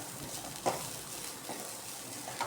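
Grated coconut with turmeric powder frying in a pan: a quiet, steady sizzle with occasional faint scrapes or stirring clicks, close but low in level, no talk.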